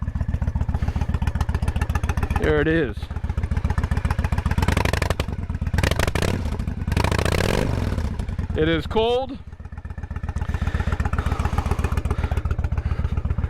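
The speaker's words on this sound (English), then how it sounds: "let's go hear that sound of the exhaust for a bit." A 1998 Honda Shadow motorcycle idles with a steady, low, throbbing exhaust note close by, running continuously beneath a voice talking over it.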